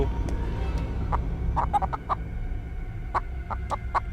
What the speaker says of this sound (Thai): อันนี้คือไก่ ไก่ที่เลี้ยงมาทดลองป่ะ